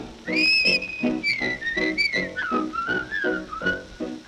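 A cheerful melodic whistle carries a bouncy big band tune over a steady rhythmic accompaniment, the clear whistled line sliding between notes throughout.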